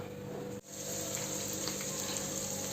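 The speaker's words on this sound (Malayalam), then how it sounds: "ഇനി ഇതിലേക്ക് ചിക്കൻ പീസസ് ഇട്ട് കൊടുക്കാം." Chicken pieces sizzling in hot oil for butter chicken, a steady broadband fry that briefly dips when the pieces drop in, then continues loud and even without any talk.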